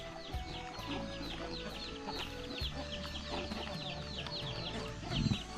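Chickens cluck repeatedly close by in a rural Hmong village, with overlapping calls and a brief louder flurry near the end.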